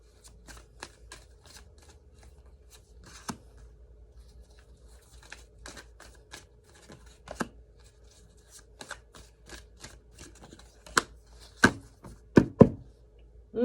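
Tarot cards being shuffled by hand in a quiet room, producing crisp riffles and soft slaps in irregular bursts that grow louder and busier toward the end.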